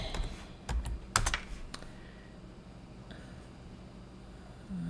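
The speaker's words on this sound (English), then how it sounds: "Let's just type in toys." Keys on a computer keyboard tapped in a quick burst while a search for toys is entered, a handful of sharp clicks early on, then quiet room tone.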